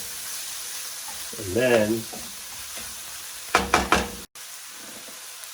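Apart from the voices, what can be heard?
spices being tossed in a hot pan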